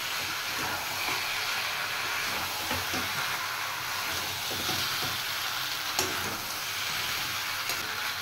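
Crabs fry in a pan, giving a dense, continuous broadband sizzle that stays steady and fairly loud, with faint stirring scrapes and a sharp click near the end.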